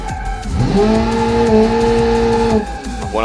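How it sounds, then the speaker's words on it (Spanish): A car in the BeamNG.drive driving game skids with a sustained, loud tire squeal over a steady engine roar, holding for about two seconds before breaking off into scattered noise. "Unos buenos derrapes por aquí."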